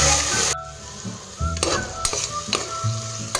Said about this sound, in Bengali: এই যে পেঁয়াজ, আদা, রসুন সব ভাজা হয়ে গেছে